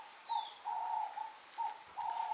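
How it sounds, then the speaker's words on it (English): Dove cooing softly at a Cape Town waterfront venue, a few hollow low hoots in a repeating rhythm, moderately distant, with a brief faint chirp and quiet ambience. "I'm hearing the dove right now."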